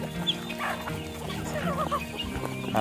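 A flock of large and small chickens clucks busily at feeding time, overlapping calls close by and continuous over a low farmyard background.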